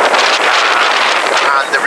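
Wind blows steadily across a riverbank and buffets the microphone, a loud continuous rushing roar with no pauses.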